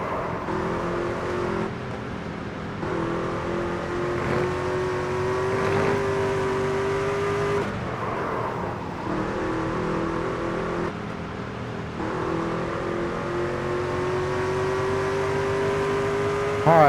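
Race car engines roar in the NASCAR 25 video game, a loud sustained drone from a nearby car with pitch rising and falling as it shifts through gears, other cars audible around it.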